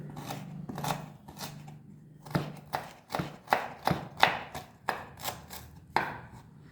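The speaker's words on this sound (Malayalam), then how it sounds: "അത് ചെറുതാക്കി അരിയുക." Knife finely chopping a piece of ginger on a board, giving a string of close, crunchy cuts at an uneven pace over a low background hum.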